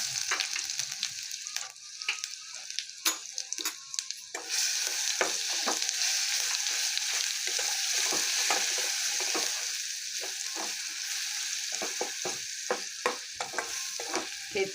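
Coarsely crushed garlic and green chili paste fries and sizzles steadily in a hot pan, with repeated scraping stir strokes clicking across the surface, close and continuous with no talking.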